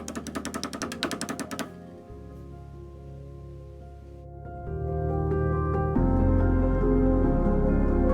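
A pileated woodpecker drums on wood in a rapid, loud burst of evenly spaced knocks lasting under two seconds, then the drumming stops and steady music takes over.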